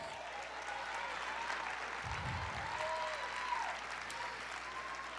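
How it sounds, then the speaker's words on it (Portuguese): A church congregation breaks into steady, full applause that carries evenly from start to finish, a brief low rumble partway through. "Aplauda o Senhor,"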